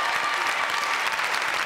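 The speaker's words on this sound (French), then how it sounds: "Applaudissements." Audience applause in a television studio, a steady dense patter of many hands clapping throughout, fairly close and even in loudness.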